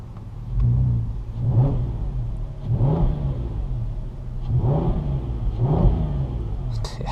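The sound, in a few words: Mk5 Golf R32 engine revving with exhaust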